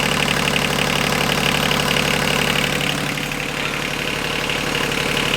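A car engine idles steadily after a head gasket change, with a continuous mid-pitched rumble and a fine, rapid rhythmic ticking, close and even, with no one talking.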